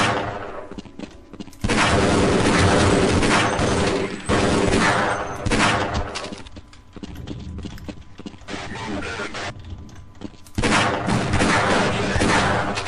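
Mounted machine gun fire in the video game Half-Life Blue Shift, in long loud rapid bursts separated by short gaps, with a quieter stretch of rattling in the middle.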